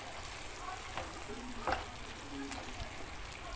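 Bell pepper cut into strips and added to a pan of onion and garlic, cooking for Turkish-style fresh green beans: a faint, steady sizzle of frying with a brief stir or clink partway through.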